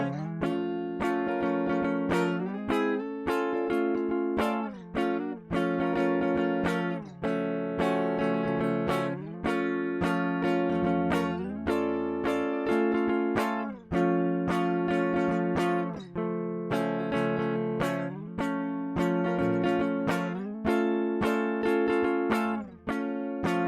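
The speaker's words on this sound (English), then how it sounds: "So let's go right to start with the inside chords. It sounds like this." An electric guitar plays inside chords, a steady run of picked chord changes that moves on every second or so for over twenty seconds, clear and close with no voices.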